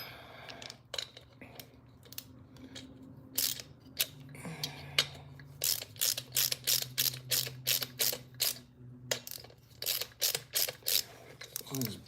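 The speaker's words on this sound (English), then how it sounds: "We're going to go ahead and try to tighten that down thoroughly if we can" A hand ratchet tightens bolts with a few scattered clicks at first. Rapid, rhythmic bursts of ratcheting then follow one after another, close and crisp over a faint low hum.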